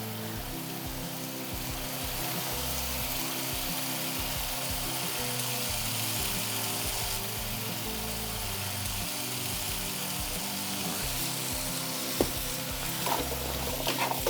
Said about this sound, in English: make sure that we keep stirring these vegetables in here